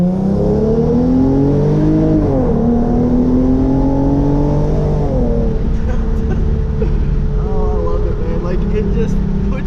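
A tuned Hyundai Genesis Coupe 3.8 pulls at full throttle from in the cabin, engine note climbing loud and steady through the gears, with a brief dip at a shift, and a voice talking over it.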